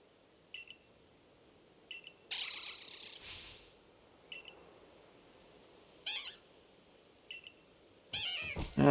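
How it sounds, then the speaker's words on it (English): A cat meows several times in short separate calls, fairly faint, with small beeps between them inside a Pokémon game. "That's just a cat for you."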